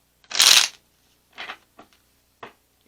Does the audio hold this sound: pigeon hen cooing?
no